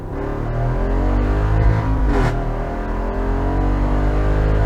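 A 2024 Jeep Wrangler 392 V8 winds down as it decelerates, giving a loud, steady engine drone with falling harmonics and a brief swell midway, heard close with no talking.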